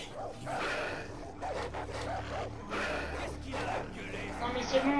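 Dogs in the video game Far Cry 3 bark and yip in short bursts, mid-distance, mixed with game ambience and a player's voice talking over them.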